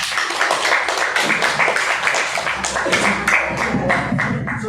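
Students clap together in a classroom for a group that has just presented, a lively, uneven patter of many hands close by, with a few voices mixed in.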